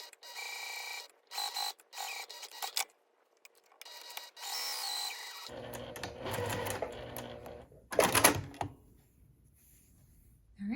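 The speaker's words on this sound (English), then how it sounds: "we're going to sew along each long edge, top stitch" A sewing machine top stitches along the long edges of a small fabric tote bag handle, running in several short bursts separated by pauses, with a louder sharp run near the end.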